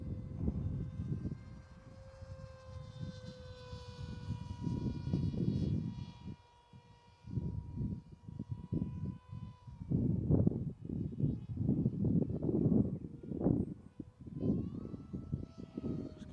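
The 6S Dart XL mini drone powertrain runs with a steady whining motor tone that rises and falls with throttle, under bursts of low rumbling wind-like noise, at moderate loudness.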